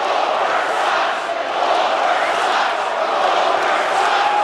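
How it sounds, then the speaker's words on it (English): A wrestling arena crowd at a Raw show in Brock Lesnar's hometown fills the space with a steady, loud roar of massed voices, sustained and unbroken throughout with no distinct chant rhythm standing out. "Brock Lesnar and Paul Heyman show up and try really, really hard to get the crowd to chant for Goldberg in Brock's hometown."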